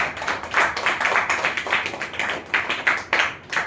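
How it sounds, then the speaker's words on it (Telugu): A church congregation at a Sunday service claps together in quick, uneven rhythm, dense hand claps filling the room loudly and continuously. "చప్పట్లు తట్టి దేవునికి"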